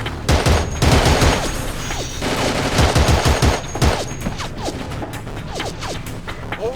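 Rapid, dense bursts of enemy gunfire in Battlefield 2: Modern Combat, with overlapping rifle and machine-gun rattles and cracks coming in loud waves, some distant shots and ricochet-like zips between them.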